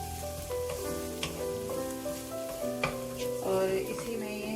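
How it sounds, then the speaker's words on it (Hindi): Crushed garlic, ginger and green chili fry in a pan, giving a close, continuous sizzle broken by scraping clinks as they are stirred, with background music playing beneath. "इसको हल्का सा हिलाएंगे।"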